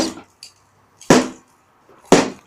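A toy hammer taps on a hard surface: three sharp, close knocks spaced about a second apart, with a fainter tick between them and quiet gaps around.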